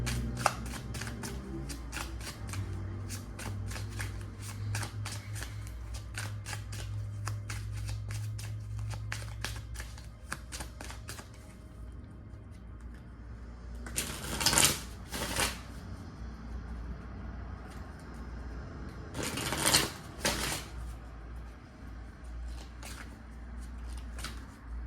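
Tarot or oracle cards being shuffled for a card reading: a long run of soft, rapid riffling flutters, then two louder, brisk shuffle bursts, close and alone with no talk.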